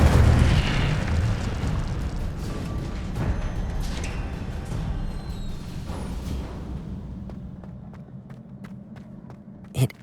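Incendio fire spell cast in Hogwarts Legacy on PS5 bursts out with a loud whooshing, booming blast of flame that slowly fades away, ending with a short pop.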